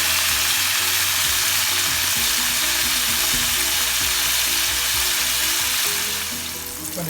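Whitebait sizzles and crackles steadily in hot oil over a high flame, a dense, loud frying hiss with bubbling that runs continuously and eases slightly near the end.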